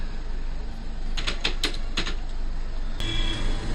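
Computer keyboard typing, heard as a brief cluster of a few quick, crisp, close key clicks in a quiet room, followed by a single sharper click.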